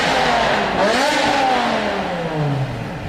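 BMW M5 E60 with its S85 engine revving loudly up and down, the pitch sweeping rising and falling across a few seconds, close and continuous with no voices.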